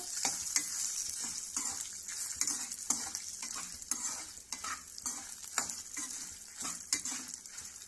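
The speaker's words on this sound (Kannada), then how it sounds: "2 ತಗೊಂಡು ಈ ರೀತಿ ಫ್ರೈ ಮಾಡಬೇಕು" Dried red chillies, Byadgi and Guntur, fry in a pan with a soft sizzle, while a spoon scrapes and clinks against the metal in quick, repeated strokes.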